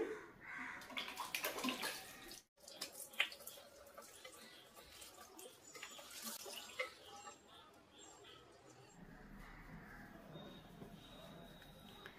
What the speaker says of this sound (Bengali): চলো মুখটা ধুই।